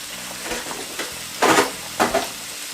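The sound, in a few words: pan-frying salmon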